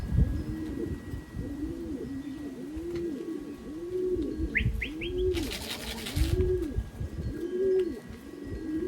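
Racing pigeons returning home after a 183 km race, cooing repeatedly and close by in a rolling rhythm, with brief chirps and a short burst of wing flapping.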